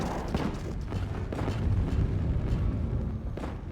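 A base in the game Stationeers on Vulcan blows up its Stirling tanks and water tank: a sustained, rumbling explosion roar with repeated bursts, loud and dense throughout, no talking.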